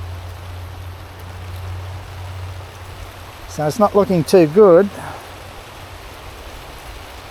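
Heavy rain pours outside as a constant broadband hiss. Partway through, someone speaks a short phrase over the downpour.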